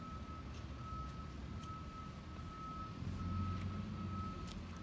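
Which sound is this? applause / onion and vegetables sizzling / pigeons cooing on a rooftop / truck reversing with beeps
truck reversing with beeps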